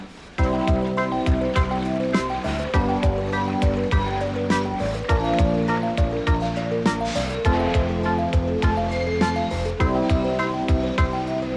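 A large one-piece toilet flushes during a factory flush test loaded with six sponges, balled-up paper and a cup of sawdust, giving a loud, sustained rush of water with repeated gurgling pulses and no talking.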